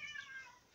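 A curious farmyard cat gives a single faint, short, high meow, heard alone and fairly distant.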